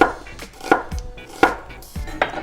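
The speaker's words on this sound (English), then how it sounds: "I'm gonna slice some red onion into wedges" A knife slices red onion into wedges on a cutting board, four crisp, evenly spaced chops that sound close and clear with no talking.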